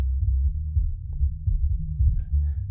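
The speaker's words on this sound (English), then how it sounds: "the kick drum just has a lot of 25, 30 in it." Low kick drum in a jazz recording, a deep, heavy low end pulsing in repeated soft thumps beneath a sustained bass, with no voices.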